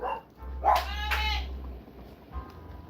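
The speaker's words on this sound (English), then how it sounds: "My dogs are saying hello to y'all." Dogs bark and yelp indoors, sounding a couple of loud, strained barks close by, then a short quieter one, over a low background hum.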